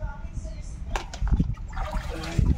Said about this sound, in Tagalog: Kailangan hugasan talaga ng maigi para matanggal yung mga tugo-tugo.